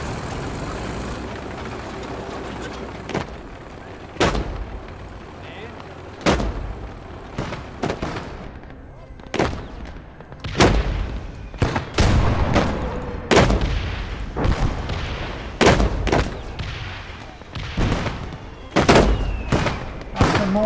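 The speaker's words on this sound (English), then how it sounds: "Mortars in action now." Mortar and artillery fire in the Blood Red Snow war game: a series of sharp, loud booming blasts, irregularly spaced and growing more frequent, over a low rumbling battlefield background.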